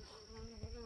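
Honey bees buzz faintly around sweet potato slips set in potted soil, a thin steady drone with a short louder pass near the end, no speech.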